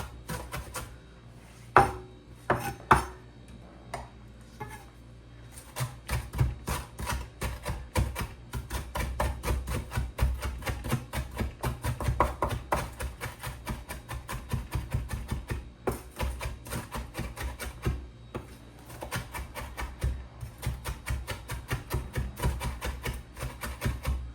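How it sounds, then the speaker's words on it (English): Rapid, steady knife chopping herbs on a board, starting with a few scattered cuts before settling into a fast, continuous rhythm of close, crisp strikes. "I'll work on them a little more delicately before I work myself up to speed and just start chopping"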